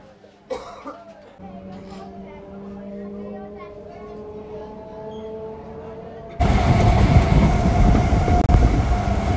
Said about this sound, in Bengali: সময় ঢুকে গেল হাওড়া বর্ধমান লোকাল 37813 আপ